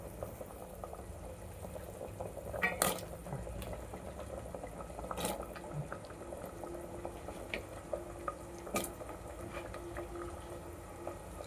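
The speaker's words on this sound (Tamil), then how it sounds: "நல்லாவே கொதிஞ்சிருச்சு. நல்லா கொதியுது." A pot of sambar with vegetables simmers quietly, a soft bubbling with a few sharper pops and clicks over low background noise.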